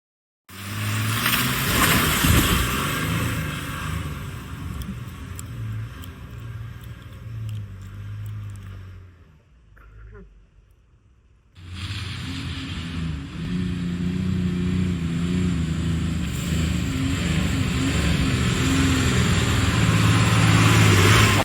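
A 2021 Jeep Grand Cherokee 3.6 engine roars and strains under load driving through wet sand, fades out briefly, then revs back up loudly and keeps pulling hard.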